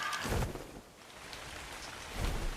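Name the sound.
rain in the video game Ark Survival Evolved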